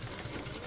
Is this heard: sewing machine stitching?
yes